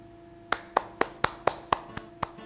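Single person clapping during a relaxed salon talk show, about ten crisp, evenly spaced claps, close and clear over a quiet room with a faint background hum.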